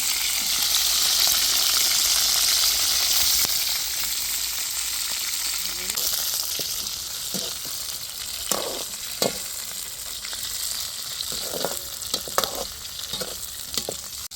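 Green chillies frying in a pan of hot oil, a loud close sizzle that gradually settles into softer crackling, broken by occasional sharp pops and stirring clatter.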